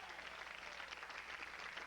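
A television studio audience claps steadily throughout, a dense, even wash of applause at moderate level with no voices over it.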